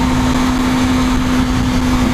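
Engine of a Kawasaki ZX-25R KRT ABS SE motorcycle held high above 8000 RPM, a loud steady high-pitched whine with a strong constant tone and no talking.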